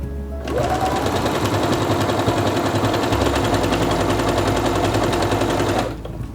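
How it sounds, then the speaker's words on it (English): A Quantum Stylist 9960 sewing machine runs continuously, stitching an elongated decorative pattern at steady speed, a dense rapid mechanical chatter that starts abruptly, holds close and loud for about five seconds, then stops, with no voices. "And then I'm going to stitch again."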